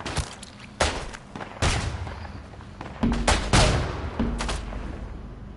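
Grenade blasts and gunfire in the World War I shooter Isonzo on the Italian front: several sharp, loud booming bursts at irregular intervals over a rumbling battlefield backdrop.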